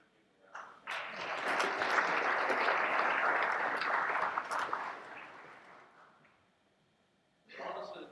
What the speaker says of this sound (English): Maybe give them a round of